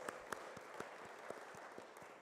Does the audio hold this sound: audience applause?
yes